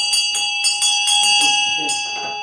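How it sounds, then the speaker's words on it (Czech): Tibetan ritual bell rung during a Buddhist ceremony at a Himalayan centre, struck in a quick run of bright, ringing strikes whose shimmering overtones sustain and overlap, close and clear with no talk. "Při obřadu máme tedy v ruce ten zvon a tu vajru"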